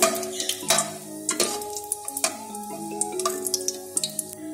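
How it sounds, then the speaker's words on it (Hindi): Whole spices, curry leaves, cloves, cinnamon, black and green cardamom frying in hot oil for a chicken white korma, with soft crackles, drips and stirring clinks close by, alone without talk. "कड़ी पत्ता, लौंग, दालचीनी और बड़ी इलायची और 3 से 4 अदद सब्ज इलायची। इनको फ्राई कर लें"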